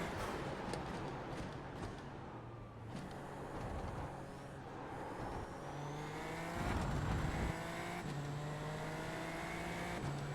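A race car laps Monza in the sim racing game iRacing, its engine revving up through gears with rising pitch and sharp drops at each shift, steady and close throughout.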